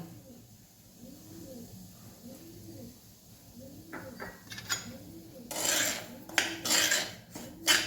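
Semolina roasts in ghee in a pan while a spoon stirs it, scraping louder in bursts toward the end, with a voice talking over it throughout.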